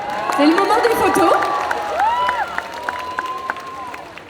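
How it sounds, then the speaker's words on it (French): A crowd at a solo cosplay contest cheers, whoops and shouts with scattered clapping, excited voices rising and falling loudly before settling into lighter sporadic claps. "encore un tonnerre d'applaudissements,"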